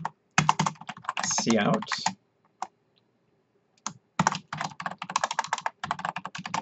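Fingers type C++ code on a computer keyboard with fast bursts of close, crisp key clicks, broken by a pause in the middle, while a voice speaks briefly during the typing.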